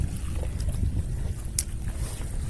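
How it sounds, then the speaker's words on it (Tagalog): Strong wind buffets the microphone in low rumbling gusts while fishing by the water, with water lapping nearby and a few faint clicks. "Lakas ng hangin."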